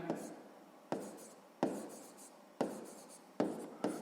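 A pen scratches out a maths solution on paper in short strokes, with sharp onsets about every second, faint and close.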